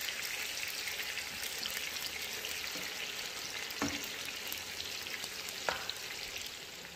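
Eggplant fries and browns in a pan of oil for adobo, giving a steady, dense sizzle close by with a few sharp crackles and pops breaking through.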